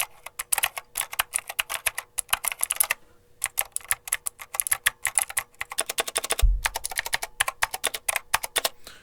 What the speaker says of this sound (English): let's just see what this thing sounds like when I just kind of hit a bunch of different keys.